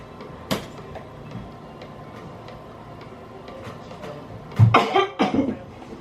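A person fakes coughing indoors, with several sharp, loud coughs bunched together near the end after quieter ticking and handling noises.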